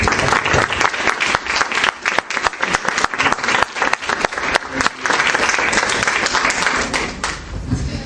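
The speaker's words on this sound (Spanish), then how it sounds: "Vamos a recibir con un aplauso de honra" A large church congregation applauds loudly and steadily, dense clapping filling the whole stretch before easing slightly near the end.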